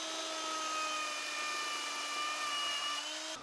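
A homemade magnetic base drill press cuts into a piece of steel, its motor giving a loud, steady whining drone with a slight pitch sag under load before stopping abruptly.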